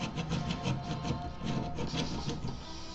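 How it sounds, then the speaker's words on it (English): A handsaw cuts through a tiny wooden scrap in quick, rhythmic rasping strokes, close up and fairly quiet, about a dozen even back-and-forth passes. "Just sawing a really tiny piece"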